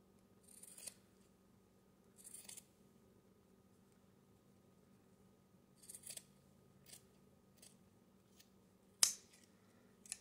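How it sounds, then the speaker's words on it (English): Scissors snip along the seam of a sock, cutting it in half: several short, quiet crisp cuts spaced apart, with a sharper snip near the end, in an otherwise hushed room without speech. "we are just going to cut down where this seam is right here. So you're just going to cut it in half again."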